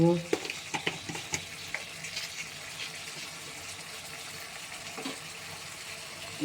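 Banana flower mixture being stir-fried in a pan with a splash of water, a steady close sizzle broken by several sharp spatula scrapes and stirs, no talking.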